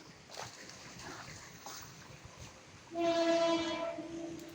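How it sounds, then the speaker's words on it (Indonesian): A passing train near a village public cemetery in Tejowangi, Indonesia, sounds its horn from about three seconds in, a loud sustained tonal blast over steady rumble after a quieter stretch of ambient noise. "suara kereta api ya, dekat trail ini loh"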